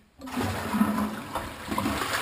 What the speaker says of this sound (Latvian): viņiem ūdens ir podā diezgan daudz iekšā, un tad, kad nolaiž ūdeni, viņš